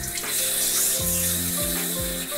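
Tap water runs steadily and fairly loud into a sink for a couple of seconds while freshly dyed hair is rinsed at home, with no talking over the splashing flow.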